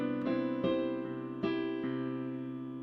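Piano plays the opening phrase of a song, a handful of sustained chords and notes struck slowly and ringing over one another, clear and close with no voices.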